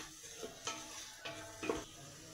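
Ingredients for mutton biryani fry in oil with a faint, steady sizzle, broken by a few soft clinks and stirring scrapes from a spoon in the pan.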